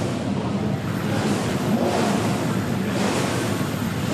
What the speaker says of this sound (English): Listen to the sound of the cars.